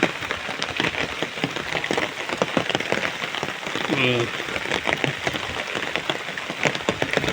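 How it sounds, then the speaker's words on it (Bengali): Rain pouring onto surfaces during a thunderstorm near a school field, a dense steady patter with close drips, and a voice briefly heard over it. "ঠাডা বিজলি দিয়ে আবার এখন বৃষ্টি হচ্ছে"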